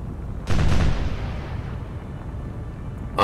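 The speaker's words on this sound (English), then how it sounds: "This is not a secondary explosion, this is the guns firing." Naval guns firing in the War on the Sea game, one heavy, loud boom that rolls into a long fading rumble, with another sharp report cutting in right at the end.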